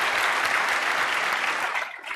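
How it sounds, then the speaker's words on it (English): A large audience applauds the Chicago mayor and his wife at a public event, loud continuous clapping that fills the clip and eases slightly at the end. "Give them a big round of applause"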